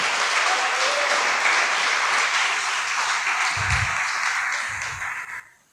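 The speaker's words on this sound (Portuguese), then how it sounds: "Então você pode dar uma linda salva de palmas para Jesus" A church congregation claps together in loud, dense applause that holds steady for several seconds before tapering off quickly at the end, with a couple of low thumps partway through and no talking.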